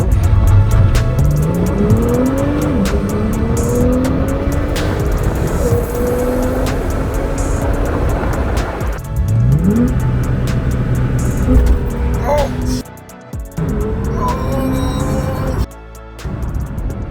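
A Porsche accelerating hard, its engine revving repeatedly as it climbs through the gears, loud and close, with a brief dip between pulls and no talk.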